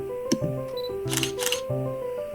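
A camera shutter clicks twice in a horror visual novel game, a sharp tick followed by two bright mechanical snaps, heard close over a quiet, low, sustained musical drone.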